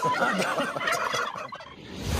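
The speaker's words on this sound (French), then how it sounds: "Je suis avec un dindon." A turkey gobbles in a garden at an amusement park, a rapid, rattling burble that runs steadily for a couple of seconds at moderate volume, with no voices over it.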